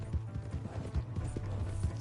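Horse hooves clip-clop in a quick, even rhythm in the video game Red Dead Redemption 2, moderately close under a low rumble of game ambience.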